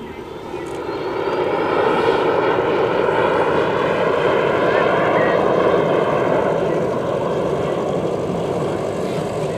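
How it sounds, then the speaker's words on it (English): A Cirrus Vision SF50 single-engine personal jet flies past at 85 knots in final approach setting at Oshkosh 2014, a steady broadband engine roar that builds over the first seconds and holds loud and continuous, with faint background voices. "Our next pass, Terry is just off to the east about midfield, and he will come by at 85 knots"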